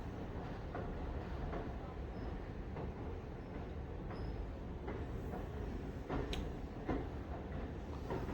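Ernakulam to Kannur Intercity train runs slowly over a single track near a bridge over the Bharathapuzha river, a steady low rumble with faint periodic wheel clicks, heard from inside the carriage at moderate loudness.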